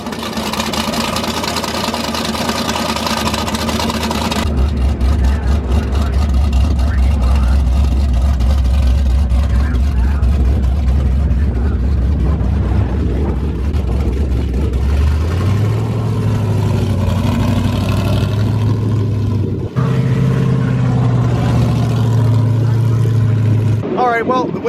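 A drag-racing Camaro ZL1 engine fires up and runs, a deep, loud rumble that swells and shifts pitch as it idles and revs close by, with some talking mixed in.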